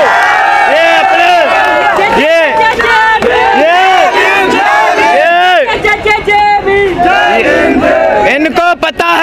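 A large crowd at a Chandrashekhar Azad political rally roars and chants loudly and continuously, many voices shouting together in rising, rhythmic waves.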